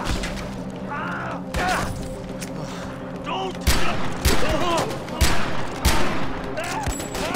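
Repeated gunfire from the video game Far Cry 4 comes as loud, sharp shots and short bursts spaced irregularly, mixed with game effects while players talk over the action.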